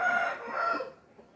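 A rooster crows once, loud and close, its call holding for most of a second before trailing off into quiet background.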